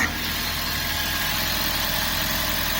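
A 21-year-old Toyota Prius with almost 130,000 miles idles with a steady, close engine drone and a faint continuous rattle, no voices over it.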